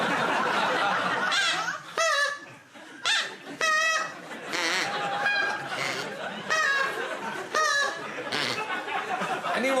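A person imitates geese honking as they fly over, producing a rapid series of nasal honks and squawks close to the mic, broken up by audience laughter and chatter.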